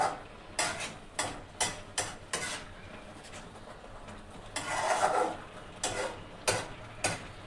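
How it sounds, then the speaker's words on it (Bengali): A thickening orange barfi mixture of orange, sugar, milk powder and khoa is stirred in a pan, producing rhythmic scraping strokes about twice a second with a soft sizzle underneath. "দেখো একটু সময় নিয়ে নাড়তে হবে"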